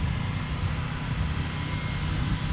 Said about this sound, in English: now I'm going to fly by nice and slow